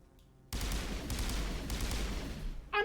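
Striker 7 burst-fire gun in Mass Effect, firing after a quiet start, then a dense, loud stretch of rapid gunshot bursts close up, no voices.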